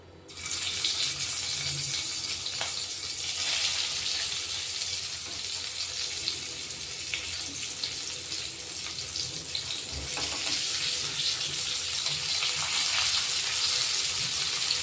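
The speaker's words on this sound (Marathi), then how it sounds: "तेल गरम झाले, आपण आता हे कारले ठेवून घेऊ." Sliced bitter gourd (karela) fries in hot oil in a pan, giving a steady, bright sizzling hiss. The sound holds evenly for the whole span, with only faint clinks now and then and no voices.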